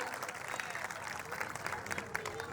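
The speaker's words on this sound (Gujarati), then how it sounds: "તો જોરદાર તાળીઓથી એમને વધાવી લઈએ" Audience at a village folk music night (lok dayro) during a religious festival applauds donors, producing a steady wash of clapping from a crowd, moderately distant and continuous throughout.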